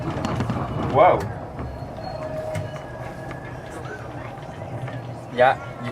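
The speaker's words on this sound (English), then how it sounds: "you can hear the poles squeaking" Poles on a Toronto TTC streetcar give two short, high squeaks several seconds apart over the steady rumble of the moving car, with people talking at times.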